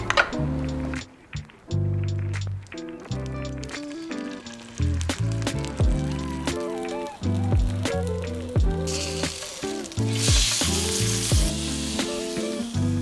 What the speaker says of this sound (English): So when I cook my salmon, I put in a couple of knobs of our grass-fed butter here.